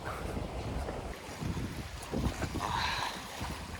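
Strong coastal wind buffets the microphone on a fishing outing by the sea, with a continuous rough roar and gusty surges. Water may sound faintly underneath.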